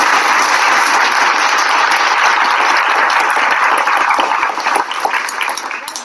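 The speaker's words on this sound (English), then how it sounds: "I got to give her hand claps for that." Dense, continuous hand clapping like a crowd's applause, loud and close, holding steady before thinning slightly toward the end, with no voices over it.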